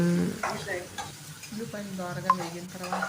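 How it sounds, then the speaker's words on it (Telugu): Chopped onion, green chili pieces and curry leaves fry in hot oil while being stirred in a pan, a steady sizzle with scraping stirring strokes throughout, close and fairly loud, with no talking. "తరిగిన ఉల్లిపాయ పచ్చిమిరపకాయ ముక్కలు కరివేపాకు వేసుకొని మనం కలుపుకుంటాము"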